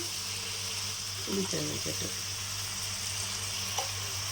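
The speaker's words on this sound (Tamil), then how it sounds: "மல்லித்தூள் போட்டதுக்கப்புறம் புளியை கரைச்சி ஊற்றிக்கலாம்" Dissolved tamarind water is poured into a sizzling lentil-ball curry after coriander powder goes in. The pan gives a steady faint hiss with a brief splashy gurgle partway through.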